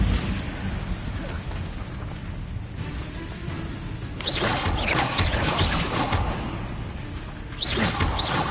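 The Incendio fire spell cast in Hogwarts Legacy, two roaring whooshes of flame that burst up loudly over a constant game background.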